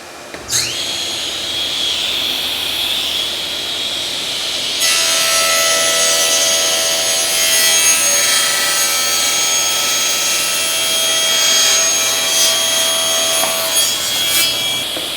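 A saw cuts through a wood board, trimming 3/4 inch off each side for a homemade cat scratching pad. A steady, loud, close-up sawing whine runs almost continuously, rising sharply after a brief quieter start.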